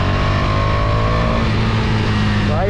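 A KTM Duke 250 motorcycle being ridden, its engine loud and close with a steady droning roar and no pauses, ending in a brief rising rev.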